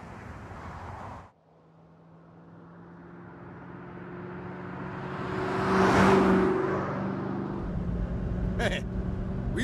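A car in Saints Row (2022) pulls away and accelerates, its engine tone rising and swelling louder over several seconds before settling, after a brief burst of other game sound at the start.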